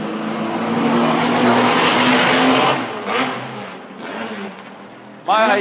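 A Formula 1600 race car accelerates loudly past on a track-day circuit, its engine note rising and fading as it goes by, while excited commentary and talk run over the sound.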